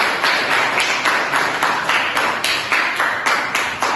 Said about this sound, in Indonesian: Tepuk tangan untuk Raihan.